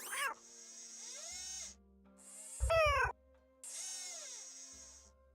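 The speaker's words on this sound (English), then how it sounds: "Who's my favorite robotic cat?" A robotic cat in a video game meowing in three long, drawn-out electronic-sounding calls, clear and close, with a short mechanical burst between them.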